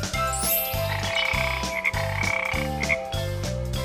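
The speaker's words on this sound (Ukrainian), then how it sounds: "Познайомся з буквою Ж жаба," Cartoon frog croaking in a rhythmic, repeating pattern of deep throaty pulses, loud and close, over bouncy background music with no talking.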